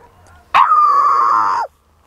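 A dog gives a single loud, sustained howling bark lasting about a second, close and clear against a quiet background.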